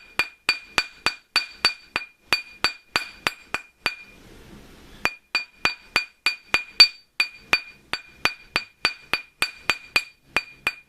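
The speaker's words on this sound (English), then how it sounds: "don't be afraid to hit this. With the rawhide mallet, you won't put any dents in the silver as you're working it up the mandrel" A rawhide mallet hammers a silver ring on a mandrel in quick, steady, ringing strikes, close and clear, with a brief pause midway before the rhythmic tapping resumes.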